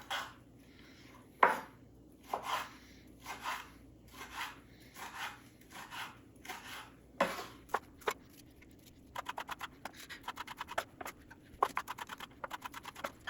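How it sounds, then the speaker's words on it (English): Knife chopping Roma tomatoes and sweet corn on a cutting board, with irregular sharp taps early and then a quicker run of close, crisp chops near the end. "we've got all of our veggies chopped"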